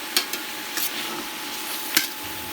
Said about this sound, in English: So now we add the zucchini, and we're going to stir that in for just a little while.